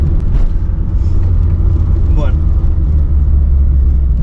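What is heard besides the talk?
Citroën AX car driving through a curve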